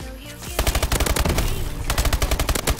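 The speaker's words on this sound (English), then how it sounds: "As you hip fire about that whole bunch." Rapid hip-fired automatic gunfire in Call of Duty: Advanced Warfare, a loud dense stream of shots with a brief pause partway through, set over busy game background sound.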